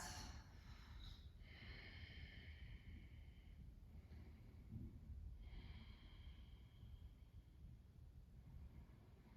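Slow, deep breathing during a yoga flow, quiet and close, with two long hissing inhale-exhale cycles over low room noise and no talking.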